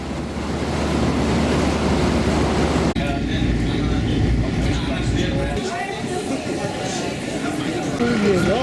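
Steady rumbling of a moving Long Island Rail Road train heading into New York, with rushing wind noise, shifting in tone partway through as the ride continues.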